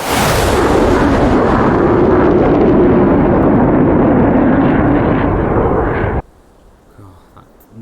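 Jet aircraft in the DCS flight simulator game, over the Persian Gulf, roars past in a loud, broad rushing flyby that swells and then cuts off abruptly into near quiet.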